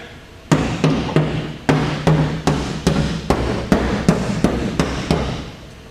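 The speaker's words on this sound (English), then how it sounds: "You know, Larry, you're having way too much fun with that hammer." Hammer taps on a damaged vehicle mounted on a Celette collision repair bench: about a dozen sharp metallic strikes at a steady, roughly half-second rhythm, loud and close, each ringing briefly before the next blow.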